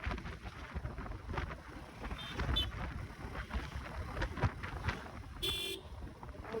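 Strong beach-side wind buffets the microphone during a motorbike ride, a constant low roaring rumble, with a short horn-like toot near the end.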